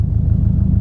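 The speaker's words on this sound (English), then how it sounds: "we've got the car idling and we are up to temperature" A warmed-up car engine idles steadily at full operating temperature, a close, loud, even low rumble with regular firing pulses and no other sounds.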